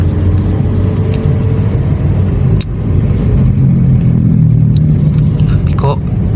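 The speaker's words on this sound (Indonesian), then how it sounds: "Waduh, sampai sini macetnya lur. Makin sore makin macet sini nih." Heavy traffic backed up near the toll road in Jakarta, with a constant loud low rumble of idling and creeping engines close by and someone talking over it.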